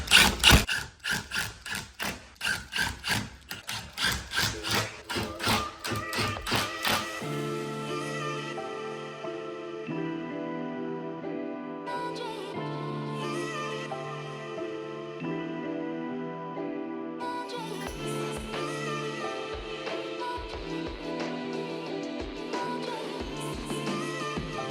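A power driver with a number 3 Phillips bit runs hinge screws home, with rapid ratcheting clicks at first, then a longer steady whir and grinding, stopping and restarting in bursts.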